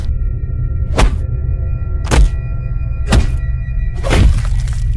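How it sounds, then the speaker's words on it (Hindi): Four heavy thuds land about a second apart over a constant low hum as cartoon characters beat up a pig. "गुल्ली बुली सोन और बाबा चारों खूनी पिग को पकड़कर बहुत मारते हैं।"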